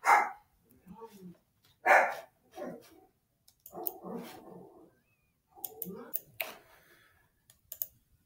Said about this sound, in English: let my dog outside. He was barking.